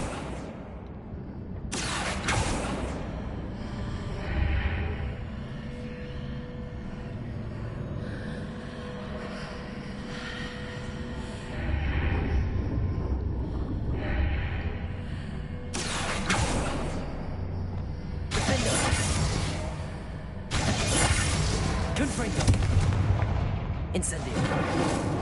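The Accio spell in the video game Hogwarts Legacy pulling a heavy stone pillar gives loud rumbling magical whooshes and booming grinds in several sustained bursts over a constant game soundscape.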